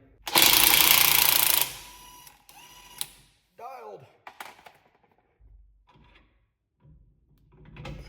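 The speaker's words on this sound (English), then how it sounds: "So I'm gonna take the bottom bolts out first." Power tool loosening the bottom shock bolts on a Toyota Tacoma during a King shocks install, one loud sustained burst of rattling impact near the start, followed by short clanks and intermittent speech.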